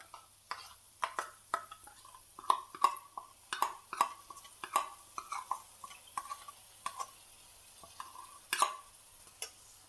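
Spoon stirring Kathiawadi papadi gathiya curry with curd in a pot: a series of sharp, irregular clinks and scrapes, close and fairly quiet, with a faint sizzle between them.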